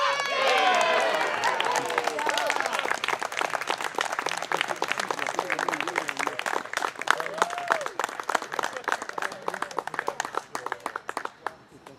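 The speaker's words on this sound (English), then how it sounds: "My hands hurt from clapping." An outdoor crowd at an Eagle Scout project event claps steadily, a dense round of applause with some cheering, loud at first and gradually thinning out, with voices talking over it.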